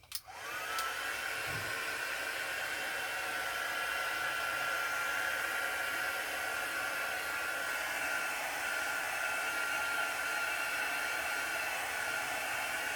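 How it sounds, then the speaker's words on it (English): A handheld hair dryer blows over a craft journal page. It switches on abruptly and then holds a steady, close, continuous whooshing roar for the whole stretch, with no talk. "So I'll start the drying process."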